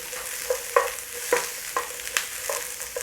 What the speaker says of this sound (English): As soon as you see a little bit of a tinge on that garlic, in with those onions.